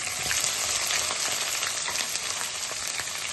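Small chopped onions frying in hot tempering oil with cumin, mustard seeds, dried red chillies and curry leaves make a loud, continuous close sizzle that holds steady throughout, with no voices.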